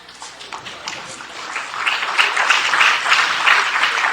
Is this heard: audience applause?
yes